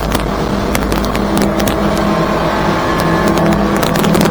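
Twin Yamaha F200 outboards pushing a 2023 Stabicraft 2750 Ultra Centrecab at wide open throttle, a loud steady engine roar mixed with constant wind and hull noise and scattered sharp knocks, with no talking.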